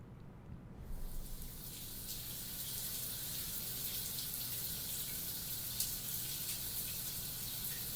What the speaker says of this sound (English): I stand in the shower looking at water droplets slide down the tile